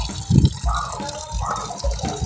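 Water runs and splashes during a washing machine's rinse cycle, an uneven gurgling flow with brief surges, close by and moderately loud, under a faint murmur of background talk.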